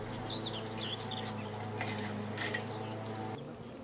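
Honey bees fanning their wings with raised abdomens at the hive entrance, a steady close buzzing drone with faint bird chirps above it, cutting off near the end.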